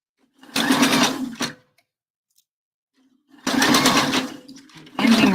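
A sewing machine straight-stitching a quarter-inch seam around a bra cup, two loud steady whirring runs separated by a silent pause, with a short third burst starting at the end.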